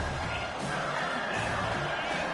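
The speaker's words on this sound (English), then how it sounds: "The roar of the crowd trying to fuel this defense to keep them pinned in their own end." Dense, sustained roar of a large crowd at a football game, steady and loud throughout with a blurred wash of many voices and no distinct speech.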